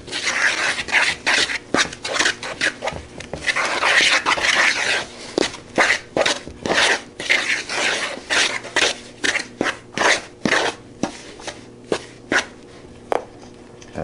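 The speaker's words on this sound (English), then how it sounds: "And just stir in the yeast into the dry ingredient." Dry bread dough ingredients with yeast being stirred in a bowl, giving a steady run of close, loud gritty scraping and rubbing strokes in an uneven rhythm, with no talking.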